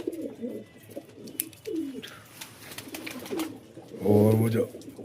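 A captive pigeon cooing up close, a deep throaty burst near the end after softer bird sounds, with someone talking over much of it.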